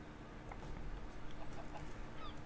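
Chickens clucking in Minecraft, a few soft, short clucks scattered over a quiet, noisy game background, faint and distant-sounding.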